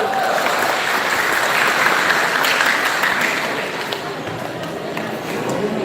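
Audience applause fills a church during a Batak congregation's ordination ceremony for three pastors, a steady dense clapping held at even loudness for several seconds, with the crowd noise near and continuous.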